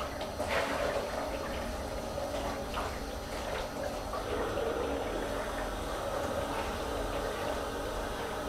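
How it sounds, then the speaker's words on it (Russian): Steady running water splashes continuously into a sink while a saucepan is washed, a constant watery rush with faint clinks, no one speaking. "Мою кастрюльку."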